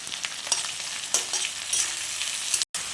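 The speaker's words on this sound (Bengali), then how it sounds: "শুটকি মাছগুলো সুন্দর বেশ ভাজা হয়ে গেছে।" Dried fish sizzles steadily in hot oil with crushed garlic and black cumin, a dense, close frying hiss broken by occasional stirring scrapes and a brief dropout near the end.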